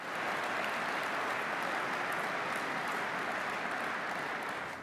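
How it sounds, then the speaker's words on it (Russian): Endless applause from a large audience during a presidential speech, a dense, even wall of clapping that carries on unbroken, somewhat distant and muffled. "Выступление генсека, простите, президента под нескончаемые аплодисменты."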